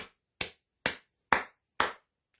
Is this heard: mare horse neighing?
no